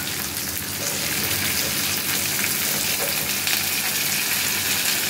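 Soaked tomatoes, ginger, cumin and coriander paste frying in a pan, giving a loud, dense, steady sizzle close by, unbroken throughout and with no talking.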